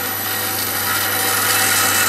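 Cherry and beech wood being hollowed out on a lathe, a steady close-up scraping and rubbing with a low motor hum underneath, continuous and unbroken for a couple of seconds with no talking.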